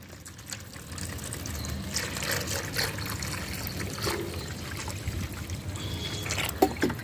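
Water steadily poured and trickling into onion-peel liquid fertilizer, being diluted to feed rose plants; a continuous close splashing stream with no talking.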